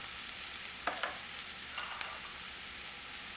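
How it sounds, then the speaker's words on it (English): Kale added to a pan of softened onions, a steady loud sizzle of frying with a few sharp crackles and stirring scrapes as the greens hit the hot oil, no talking. "So my onions have softened down, so I'm going to begin to add my kale."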